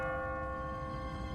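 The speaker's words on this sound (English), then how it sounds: "What kind of church bell goes off at 20 past the hour?" Automatic church bell in The Walking Dead game rings with a sustained, resonant tone over a low rumbling background, fairly faint and steady without speech.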